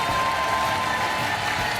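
Steady applause from a studio audience cheering game show contestants as they leave the set on a French money-drop quiz show, dense and even clapping throughout.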